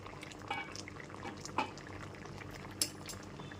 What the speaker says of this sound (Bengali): এতে আলু আর কচুটা সুসেদ্ধ হয়ে যাবে আর ঝোলটা অনেকটা ফুটে যাবে